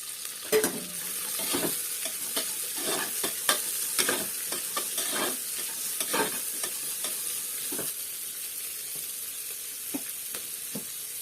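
Onions sizzle steadily in a hot pan for egg biryani, a constant close frying hiss broken by repeated clinks and scrapes of a spoon stirring, with no voices.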